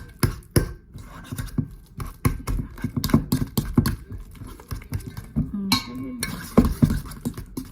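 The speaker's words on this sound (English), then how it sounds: "Mash them really good." Very ripe bananas being mashed for banana bread in a bowl, a close series of irregular wet squelching thumps and scrapes of the utensil against the bowl.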